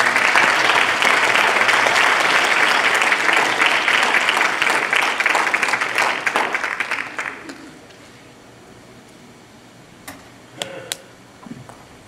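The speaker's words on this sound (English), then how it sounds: "so let's just give them another round of applause." An audience at a church service applauds, a loud dense patter of clapping for about seven seconds that fades out, followed by quiet room tone with a few faint taps.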